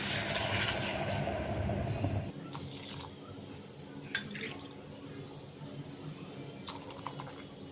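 Water is poured into a cooking pot for a foxtail millet vegetable biryani: a steady rushing splash for about two seconds, then quieter clinks and small drips in a kitchen.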